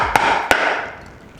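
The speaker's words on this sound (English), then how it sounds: "Set your chisel and tap on it with a hammer." Two sharp, close taps of a hammer on a chisel ring out against a reusable resin form as a cast blank is freed, each knock followed by a brief fading resonance.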